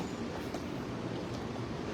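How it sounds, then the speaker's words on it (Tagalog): Crowded airport train moving through Atlanta International Airport, a steady close rumble of wheels and car noise running throughout with no talk. "Grabe, punong-punuan ng tren."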